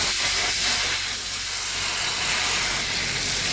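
A tablespoon of butter dropped into hot caramel in a pan gives a loud, steady, close sizzle and hiss that continues without a break.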